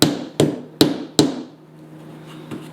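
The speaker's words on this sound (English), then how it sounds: "we just tap that in there, and then make sure the head of the nail is actually countersunk a little bit" A hammer taps a nail into the wooden frame of an acoustic panel: four sharp, evenly spaced strikes close by, then a quiet pause and one faint final tap.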